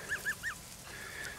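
Sebastopol goslings honk three times in quick succession, close and fairly loud, then trail off into softer, thinner calls.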